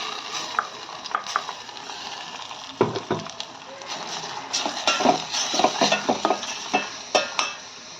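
Tomato puree going into a pan of frying pakodas, with a metal spoon clattering and scraping against the pan over a low sizzle, irregular knocks growing busier toward the end.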